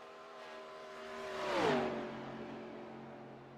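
A race car on a qualifying lap at the I've Got Ballz 400 sweeps past, its engine note rising as it approaches, peaking, then dropping in pitch as it fades away, a single clear pass-by.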